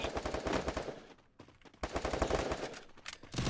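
Rapid bursts of automatic gunfire in a competitive 4v4 shooter video game, loud and dense, with a brief lull midway before firing resumes.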